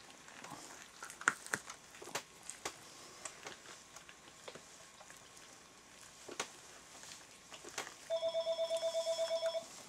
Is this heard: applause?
no